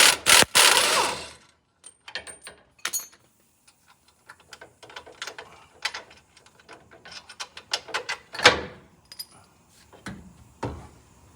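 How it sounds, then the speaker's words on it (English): A ratchet wrench loosens the top shock absorber nuts on a Nissan Titan during a lower control arm job, giving sharp close clicks and scattered clacks in irregular bursts, with a couple of louder metallic knocks. "Let's go ahead and remove the top three nuts on top of the shock"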